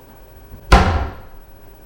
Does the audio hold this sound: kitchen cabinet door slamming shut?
yes